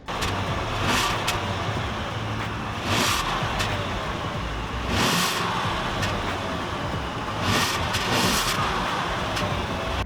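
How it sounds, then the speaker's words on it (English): A 2017 Bentley Mulsanne's 6.75-liter V8 rumbles steadily at close range, its exhaust note swelling in several brief rev surges over a continuous engine drone, with no talking. "let's listen to the exhaust note from the 6 3/4 liter V8"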